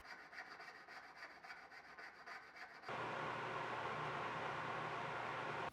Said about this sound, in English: I'll trim off some of the extra scales with a jeweler's saw